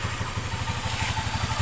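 A Rusi TC 125 motorcycle engine keeps idling when it should be off, a steady close low putter with a fast even rhythm and light mechanical clatter throughout.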